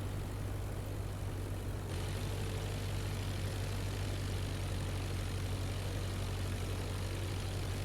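Propeller airplane engine droning steadily through a crosswind landing in the IL-2 flight simulator game, a constant low hum under broadband wind-like noise that brightens slightly after the first couple of seconds.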